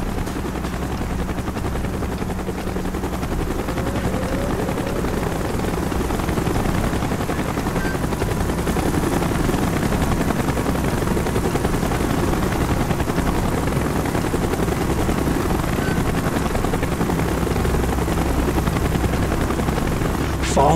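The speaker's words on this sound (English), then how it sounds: "Chopper's inbound! Move it!" In Call of Duty Black Ops, a military helicopter's rotor throbs loud and steady for about twenty seconds, with scattered gunfire and brief voices in the battle mix.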